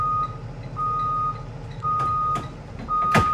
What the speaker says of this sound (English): The reverse working, I hit the beeper.